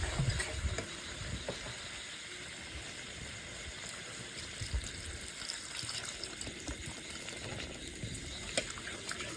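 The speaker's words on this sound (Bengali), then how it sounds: "এবারে জল দিয়ে দেবো।" Water goes into a pot of chicken curry as it cooks, making a low, steady wash of pouring and sizzling bubbling that lasts throughout at a modest, even level, with no talking.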